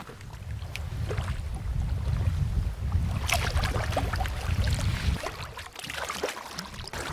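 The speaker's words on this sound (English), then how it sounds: "we paddle our way to and up Pemadumcook Lake and make our way to Big Moose Island" Canoe paddling across Pemadumcook Lake in the Debsconeag Lakes Wilderness with a tailwind, water sloshing and lapping against the hull in a steady low wash, with gusts of wind rumbling over the microphone and faint dips of the paddle throughout.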